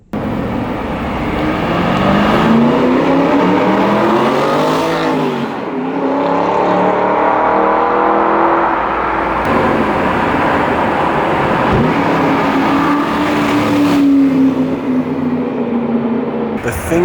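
An Aston Martin drives past on the road, heard from the roadside as a loud, steady engine roar that rises and falls with revving and gear changes over several seconds, with no talking.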